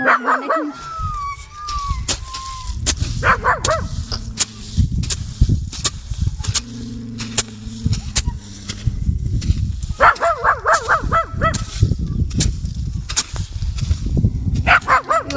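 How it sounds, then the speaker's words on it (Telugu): Several dogs bark repeatedly nearby, with yips and whining between the barks, a busy noisy chorus that continues throughout. "మా కుక్కలు అరుస్తున్నాయి."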